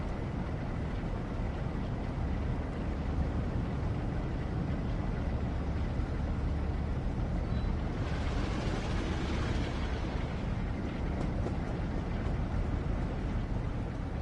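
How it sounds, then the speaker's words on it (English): A steady, loud Class 377 electric train's motors drone and rumble continuously in Train Sim World at Eastbourne sidings, with a brief swell of hiss partway through. "so you can hear the engine sound a bit better"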